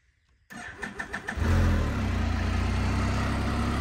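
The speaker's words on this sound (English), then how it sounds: "You go and start up your Spyder." A Can-Am Spyder engine cranks in a quick series of starter pulses, catches with a rising rev, then settles into a steady, close idle.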